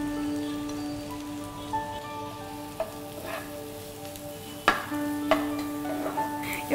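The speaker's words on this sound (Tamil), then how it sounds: "இந்த பட்டர்ல வந்து இந்த வெங்காயம் நல்லா குக்க ஆயிடுச்சு" Steady crackling sizzle of onions frying in butter in a pan, with a few sharper pops and clicks scattered through; no talking.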